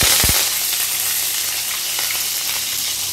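Mustard seeds, fennel and curry leaves fry in hot oil as a biryani masala begins, giving a loud, dense crackling sizzle that holds steady throughout, with a few sharp pops near the start.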